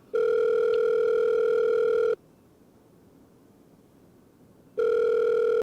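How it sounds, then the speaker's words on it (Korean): A telephone ringback tone sounds as a call connects: a steady electronic tone for about two seconds, a silent gap of roughly two and a half seconds, then the tone starting again, clear and alone. "민지팀과의 통화가 준비되어 있습니다"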